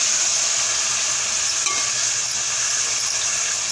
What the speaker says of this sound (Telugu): ఇప్పుడు మొత్తం అంతా వేయించుకోవాలండి